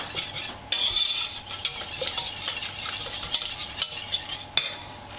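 An egg is whisked into chocolate brownie batter in a bowl, a close, quiet run of light clinks and scrapes that keeps going with sharper taps now and then.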